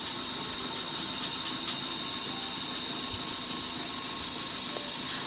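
The LPG-fuelled engine of a Maruti Suzuki Wagon R LXI idles steadily with a faint, even mechanical hum and light knocking that stays unchanged throughout, with no voices.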